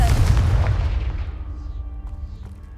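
A Confringo blasting spell explodes in a fantasy video game, a loud booming blast with a deep rumbling low end that slowly decays over a few seconds, leaving faint lingering debris and ambience.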